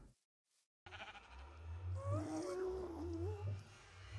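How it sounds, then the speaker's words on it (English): Sheep bleats in a Minecraft survival game, a few wavering calls after a brief silence, close and clear over a low background hum, alongside another farm animal nearby. "What's a sheep and a chicken doing in our base?"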